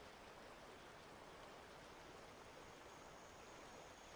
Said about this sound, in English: Got the water running underneath you.